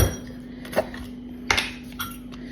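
A bowl, a plate and a jar being handled in a home kitchen, several scattered clinks and knocks of dishes and glass, close and fairly quiet, over a faint steady hum.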